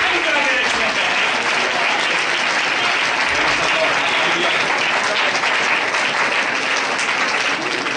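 Loud, sustained applause from a church congregation thanking the Lord, dense clapping filling the room without a break.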